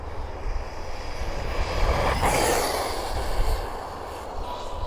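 An Arrma RC car on a 3S battery runs at full throttle, a broad whooshing motor whine that rises and passes near the middle before fading, heard outdoors against steady background noise without talking.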